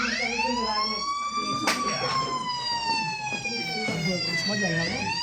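An ambulance siren wails in a steady sweeping tone, loud and close, staged as part of a college role play about organochlorine poisoning, with voices talking underneath.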